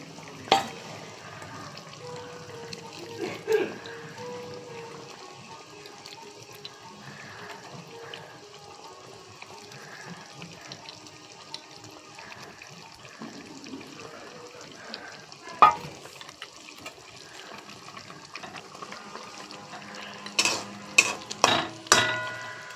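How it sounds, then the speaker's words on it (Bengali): A paste of poppy seeds and melon seeds fries quietly in a pan with a soft sizzle and occasional scraping stirs, ending with a few sharp clinks of the spoon against the pan. "এবার এই যে পোস্তটা দিয়ে দিচ্ছি, পোস্ত আর চারমগজটা।"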